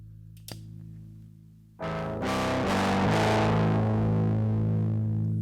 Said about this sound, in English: There's our heavy metal guitar sound, right? Now we're starting to get that really heavy overdrive distortion onto it